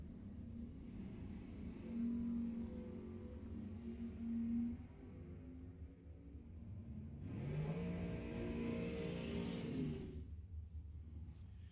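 Dragsters race at Lebanon Valley Dragway, with engines heard from a distance droning and revving in two broad swells, the second loud and rising in pitch as a car passes.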